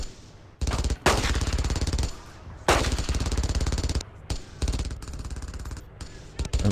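Sustained machine gun fire in the World War II shooter Brothers in Arms: Earned in Blood on the original Xbox, loud bursts running almost continuously with brief gaps, mixed with other gunfire of a game battle.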